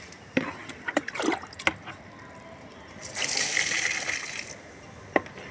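Organic liquid fertilizer poured a little at a time onto potted plants: a few light knocks and taps, then a soft gushing splash of liquid for over a second, fairly faint, with no one talking.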